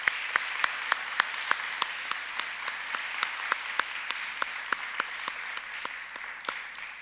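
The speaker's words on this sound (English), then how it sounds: "Let's give a round of applause for our fourth grade speech meet qualifiers." A school chapel audience gives a steady round of applause for fourth grade speech meet qualifiers, many hands clapping evenly with sharp individual claps standing out throughout.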